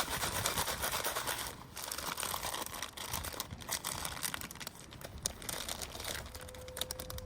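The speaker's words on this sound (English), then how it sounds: "I'm just gonna shake it." A snack bag of crushed Ottogi Ppusha Ppusha bulgogi noodles and seasoning powder is shaken hard up close, a steady dense crinkling rattle of dry pieces and plastic that runs on without pause.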